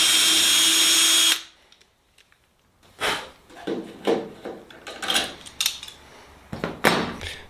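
Power drill boring holes in a Sonex aircraft part, a loud steady whine that cuts off abruptly, followed by quiet handling and a series of short bursts of drilling and clattering metal contact.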